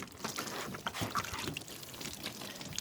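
Water poured over a plastic car headlight to rinse it after a toothpaste and WD40 restoration, a steady close splashing trickle running for a few seconds without talk.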